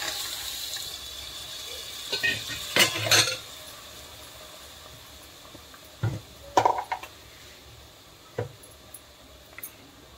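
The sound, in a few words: chickpeas and potatoes added to gravy in pan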